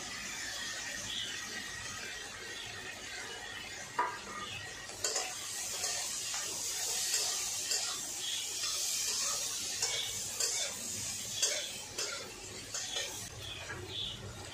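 Soft scraping and clinking of a spatula in a pan as sauce and eggs go into chow mein, irregular stirring clatter with small taps, faint and close, no talking.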